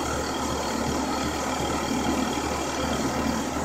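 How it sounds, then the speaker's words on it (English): A CNC machine runs steadily, its motor, drive belt and spindle making a continuous mid-pitched mechanical hum and whir with no pauses, close and fairly loud throughout. "You hear the motor and the belt and the spindle"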